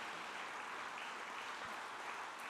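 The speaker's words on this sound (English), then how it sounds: "Please give them a round of applause." An audience at a community service awards ceremony gives a round of applause, faint and distant, a steady even wash of clapping from start to finish.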